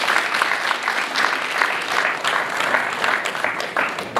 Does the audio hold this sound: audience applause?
yes